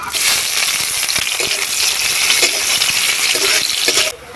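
Black cumin, bay leaf, whole dry chilli and chopped onion fry in hot oil in a wok, a loud, dense crackling sizzle close by that cuts off abruptly near the end.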